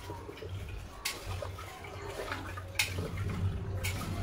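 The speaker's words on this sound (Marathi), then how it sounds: "2-3 पाण्याने स्वच्छ करून घेणार आहे डाळ तांदूळ" Lentils and rice being rinsed in water in a home kitchen: soft sloshing and swishing of water with a couple of sharp splashy bursts, close and fairly quiet, with a low hum underneath and no talking.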